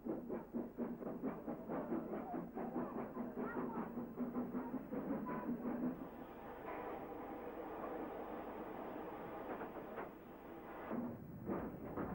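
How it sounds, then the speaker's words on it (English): Steam locomotive number 4 at the Windsor Street Gasworks chuffs in a fast, rhythmic exhaust beat, moderately near and faint on an old archive recording, with heavy rumbling continuing throughout. "We're now at Windsor Street Gasworks, where we find locomotive number 4."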